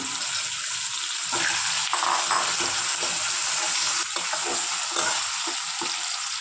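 Eggplant with chopped spring onion greens frying and being stirred in a pan, a steady close sizzle with scraping spoon strokes scattered throughout, no one speaking.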